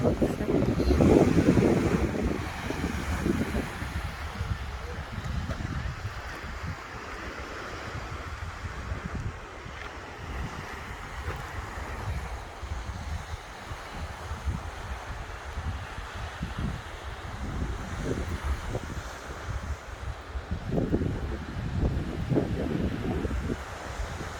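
Steady wind buffeting the microphone at a crowded seashore, with a broad wash of surf and waves rolling underneath, gusts swelling loud at the start and again near the end; no clear speech rises above it.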